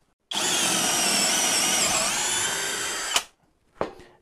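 A Deko Tools 20V cordless drill with a 10 mm bit at speed 2 bores into fir wood, giving a loud, close, steady high whine for about three seconds, then a sharp stop and a brief second burst.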